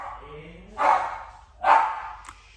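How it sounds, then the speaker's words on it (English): A house dog gives two distinct barks about a second apart at moderate distance, with a faint whine before them in a quiet indoor room. "There's the dog."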